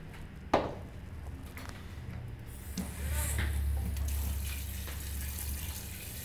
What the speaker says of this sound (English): we're going to add water to cover.